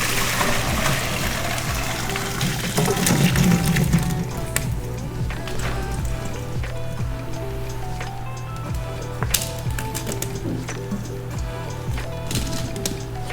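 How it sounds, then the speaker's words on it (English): Hot water from boiled potatoes draining through a strainer, a steady close rush and trickle of liquid throughout, strongest in the first few seconds, then softer pouring and dribbling. "Carefully strain potatoes."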